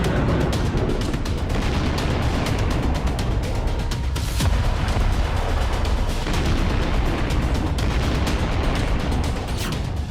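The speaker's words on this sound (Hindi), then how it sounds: "जहां धरती फाड़ धमाके हो रहे हैं," Dense, continuous rumbling booms and crackling bursts of gunfire and explosions in Kyiv during the Russia-Ukraine war, loud and relentless throughout, like heavy battle noise.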